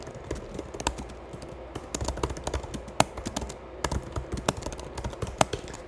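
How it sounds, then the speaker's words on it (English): Typing on a computer keyboard, with quick irregular key clicks and occasional louder taps heard close up, running steadily with no speech. "So we'll type it out."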